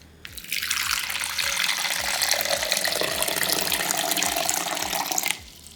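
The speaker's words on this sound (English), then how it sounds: "I'm gonna pour some water in it" Water pours steadily from a tap into a bowl for about five seconds, a continuous near rushing stream with no talking, used to mix food colour for a Halloween recipe.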